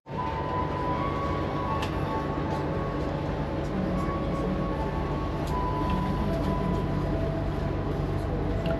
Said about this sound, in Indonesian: kereta api Ambarawa Express berangkat dari stasiun Rombo